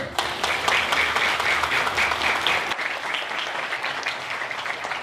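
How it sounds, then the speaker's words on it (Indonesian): Audience applause at a charity event for orphaned children, a dense steady wash of clapping that runs loud for a few seconds and then eases slightly while continuing to the end. "Tepuk tangan buat Komando."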